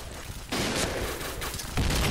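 An MP5K submachine gun fires in the Point Blank shooter game, loud continuous rapid bursts that swell at about half a second and again near the end of the short stretch.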